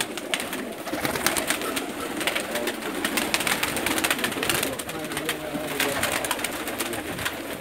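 Many breeder pigeons coo and flutter nearby in a busy, continuous chorus, with soft murmuring voices underneath.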